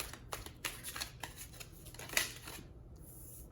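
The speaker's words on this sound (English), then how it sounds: "So I'm going to be shuffling on camera today" Tarot cards are shuffled by hand up close, a run of quick papery riffles and soft slaps in an uneven rhythm, fairly quiet with no talking.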